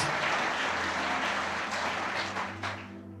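A church congregation applauds after a bilingual sermon, with continuous clapping under a low hum and a few sharper individual claps standing out near the end.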